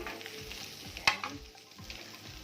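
Fish sizzles and crackles in hot oil, a continuous close frying hiss with soft stirring scrapes and one sharp metallic clink partway through.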